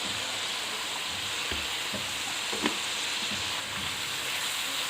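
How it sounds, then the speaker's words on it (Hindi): Chicken frying in a pan with ginger garlic paste, a steady soft sizzle running through the whole clip with a few faint stirring clicks, no voices. "अब इसको 1-2 मिनट हम इसमें पकाएंगे, अदरक लहसुन के साथ चिकन को पकाएंगे।"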